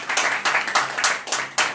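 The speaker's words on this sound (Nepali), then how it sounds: "एकचोटि सबैले ताली पठाउनु।" A crowd at a political gathering in Dhangadhi claps for a chief minister. Dense, rhythmic clapping pulses repeatedly at close to moderate range, with no speech over it.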